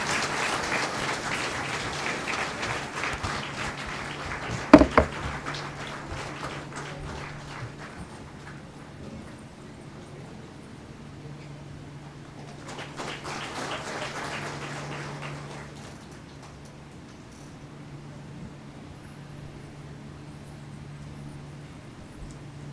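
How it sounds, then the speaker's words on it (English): An audience at a school's concluding function gives sustained applause to welcome guests onto the dais, a dense patter of clapping that swells, dips, then surges again before tapering. "Everyone, let's welcome them with a big round of applause."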